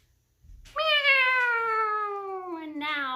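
A voice imitates a cat, giving one long, drawn-out meow that slowly falls in pitch, followed by the start of another, close and clear.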